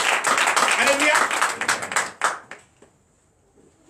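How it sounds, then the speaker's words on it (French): A church congregation claps in a brisk burst of applause mixed with voices calling out during a night deliverance service, then the clapping thins to a few scattered claps and fades to near quiet. "Donne l'acclamation."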